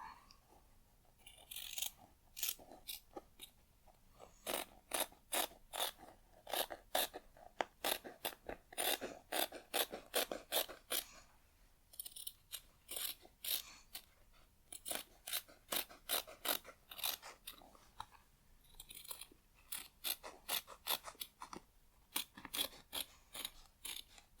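Scissors snip repeatedly through fabric being cut into side pieces for a tote bag, crisp close cuts in quick bursts with short pauses between runs, no talking.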